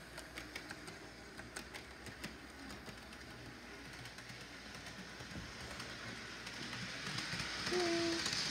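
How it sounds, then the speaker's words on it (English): A Metra inbound commuter train rumbles steadily into a station, its low roar building toward the end, with faint squeals and clatter over the hum. "The next inbound train is now arriving in your station."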